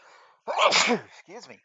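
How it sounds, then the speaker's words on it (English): A single loud, close human sneeze bursts out in the middle, between softer breathy sounds, and is followed by a short spoken apology in the same voice. "Gotta sneeze for a second."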